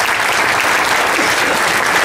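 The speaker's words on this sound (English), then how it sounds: "I think it's worth a round of" Steady audience applause at a sponsor's night awards event, a dense continuous wash of clapping from a large crowd, loud and even throughout with no talk on top.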